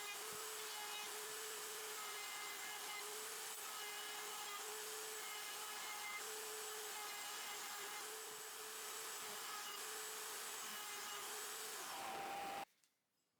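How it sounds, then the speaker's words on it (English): Router table with a roundover bit rounding the edges of 2x6 lumber panels, a steady loud whine with a constant tone running for about twelve seconds before cutting off abruptly. "On the router table, using a roundover bit, I round over the bottoms of all the glue-up panels"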